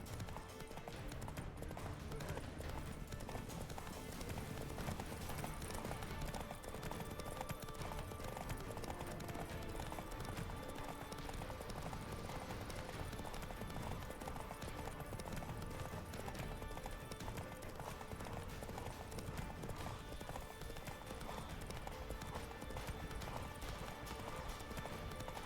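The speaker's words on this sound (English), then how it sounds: "It always takes Roach so long to get going" Galloping hooves of the horse Roach in the video game The Witcher 3, a steady, continuous clip-clop over dense game ambience and music throughout.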